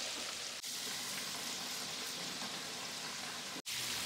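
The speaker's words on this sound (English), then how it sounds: "I'm not gonna fry it too hard" Turkey pieces for griot, already cooked, fry briefly in hot oil with a steady, dense crackle throughout, close and fairly quiet, broken by two short dropouts.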